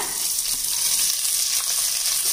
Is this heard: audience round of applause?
no